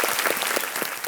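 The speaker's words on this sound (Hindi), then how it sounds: "तालियों के साथ इनका स्वागत किया जाए।" A TV quiz show studio audience applauding to welcome a contestant, a brief dense burst of steady clapping from many hands.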